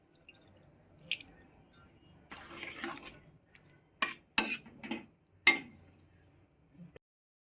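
Water poured into a pan of eggplant curry (begun jhal) as it cooks: a short splashing burst, then a few sharp clinks of utensils against the pan, with soft kitchen clatter around it.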